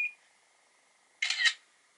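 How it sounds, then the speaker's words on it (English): The Ulefone S8 Pro smartphone camera gives a brief focus-confirmation beep at the start, then a burst of shutter-like clicks about a second later, clear and close in a quiet room. "we get a little beep to say that it's in focus"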